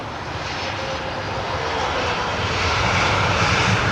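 An airliner arriving on runway 27R at London Heathrow roars with a broad jet rumble that grows steadily louder as it nears, with no talking.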